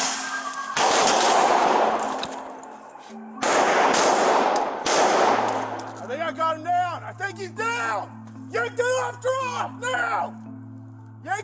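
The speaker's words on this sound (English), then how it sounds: "As officers approach the building, more shots can be heard, and Galloway is seen falling to the ground." Gunshots erupt during a bank shooting in America, caught on a police body camera: several loud, sharp cracks ring out outdoors, followed by shouting voices and commotion.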